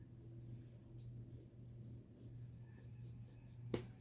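A marker or chalk scratches across fabric, drawing lines between marks before cutting, in soft repeated strokes over a low steady background hum, with a sharper tap near the end.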